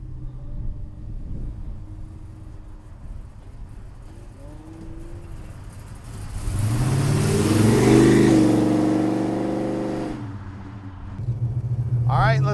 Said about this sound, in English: It's got an awesome sounding exhaust.